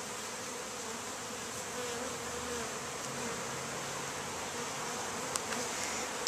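Honey bees buzz steadily around a newly installed package hive, a dense, continuous insect drone held at an even level throughout, with no talk.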